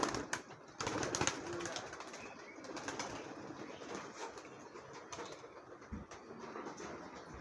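Silver knot pigeons released and flying, with soft flurries of flapping wings and faint cooing close by, fairly quiet and intermittent with a few bursts of wingbeats.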